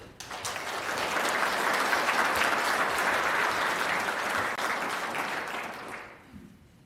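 An audience at a scholarship luncheon applauds to welcome a speaker, the clapping swelling quickly, holding steady and loud for several seconds, then fading out.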